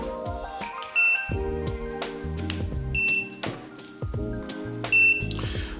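A small standalone buzzer on an 8-inch long-range drone gives short electronic beeps at a steady interval of about two seconds, sharp and high-pitched, layered over tonal motor whine, with no voices.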